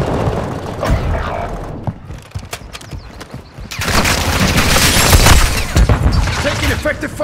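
A grenade goes off in a Call of Duty: Modern Warfare II match, a broadband blast that swells into a sustained roar of gunfire and clatter, loud and close, with game voices calling out over the action.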